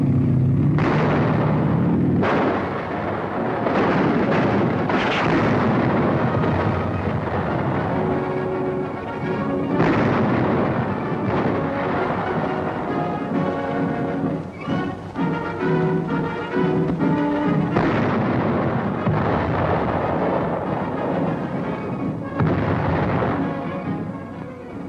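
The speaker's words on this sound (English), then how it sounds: "rifles that are to fire at targets 500 to 800 yards afield" M3 75mm self-propelled anti-tank gun half-tracks firing on a range at towed mock tank targets, a long run of loud, booming gun reports and blasts following one another, some overlapping, with rumbling echoes between them.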